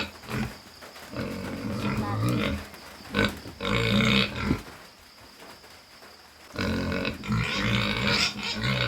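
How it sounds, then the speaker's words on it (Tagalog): Pigs on a farm grunt and squeal loudly in several rough bursts, with quieter gaps between them, close to the listener and with no other sound over them. "Ayun nga yung ating mga baboy."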